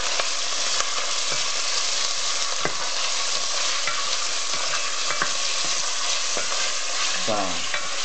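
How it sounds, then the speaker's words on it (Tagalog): Pork meat frying and being stirred in a pan, a steady close sizzle throughout with occasional clinks and scrapes of the utensil, no voices. "and now I'm frying the pork meat"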